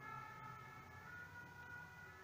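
A fire engine siren wails steadily in the distance, heard from beside a main road, with a faint wash of background noise and no voices.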